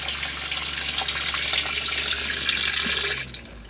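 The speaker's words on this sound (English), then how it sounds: "Sink works perfectly fine. Turn that bad boy on." Water runs steadily from the tap into a stainless steel sink in a boat's bathroom, a close, even gush that keeps going and then drops off near the end.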